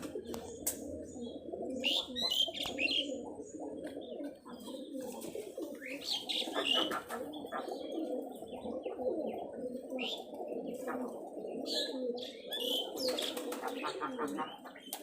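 Giribaj high-flyer pigeons coo continuously in a soft, rolling murmur close by, with occasional brighter chirps over the low burbling.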